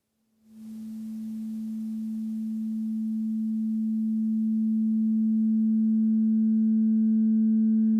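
A pure, sustained crystal singing bowl tone swells in from silence and holds steady, humming with faint higher overtones ringing above it.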